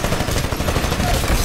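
Gunfire in the video game Titanfall, a dense, loud stream of rapid shots filling the whole moment with no pause.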